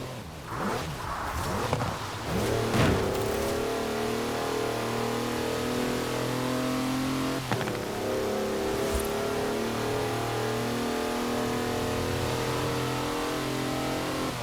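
A four-wheel-drive car on mud tyres in Forza Horizon 4 slides sideways, its mid-range engine revving hard and steady throughout, with a few sharp transient knocks early on.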